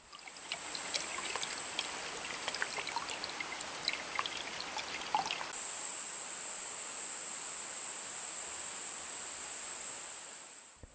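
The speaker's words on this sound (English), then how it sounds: "pierce the eye of the coconut to access the water" Coconut water trickling and draining from a pierced coconut eye, a continuous thin stream of liquid heard close up with small drips, alone without speech.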